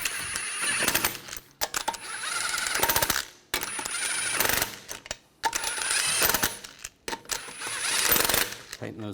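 An impact wrench tightens lug nuts on a Ford Escape front wheel, firing in four loud, close rattling bursts separated by short pauses.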